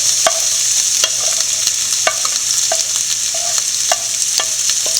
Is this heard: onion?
yes